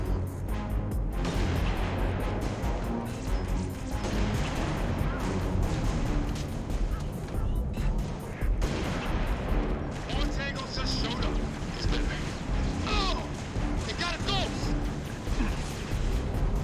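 Sniper rifle fire in the sci-fi shooter game Halo: Reach rings out amid a dense, loud wash of booming gunfire and explosions that runs continuously throughout, with a voice talking underneath.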